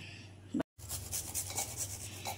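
Fresh ginger is grated by hand into a paste for biryani, giving a steady close-up rasping scrape of repeated quick strokes after a brief pause, with no talking.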